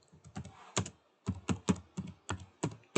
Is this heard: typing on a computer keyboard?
yes